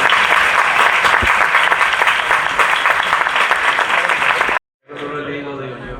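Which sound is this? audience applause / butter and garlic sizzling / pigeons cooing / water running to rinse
audience applause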